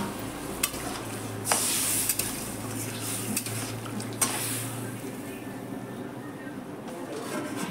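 Prawns sizzle in a pan while a utensil stirs them, giving a close frying hiss with sharp scraping clatters against the metal that gradually settle.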